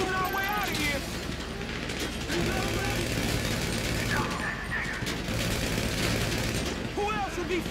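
Sustained gunfire from a shootout in GTA V during the Paleto Score heist, dense rapid shots and mechanical clatter filling the whole stretch, with voices talking over the fight.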